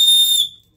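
A safety whistle gives one short, shrill blast up close, loud and piercing, then cuts off into silence.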